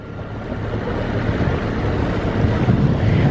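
A dinghy's outboard motor throttles up on open water, building into a steady low drone amid wind buffeting and splashing water, growing gradually louder.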